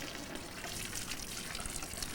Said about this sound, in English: It's got a valve on it which we're going to open up to clean the water line. That will actually let the fluid flow out into the pad.